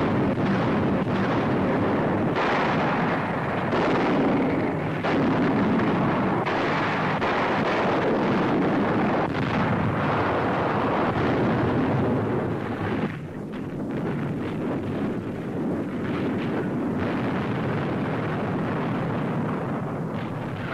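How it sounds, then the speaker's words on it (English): Artillery and rocket guns fire from landing barges approaching the shore during the D-Day Normandy landings, a dense, continuous roar of blasts and rumble that runs loud through the whole stretch with no voices. "some bearing artillery and rocket guns already opening fire"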